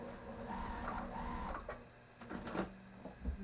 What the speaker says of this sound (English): And you just sew across.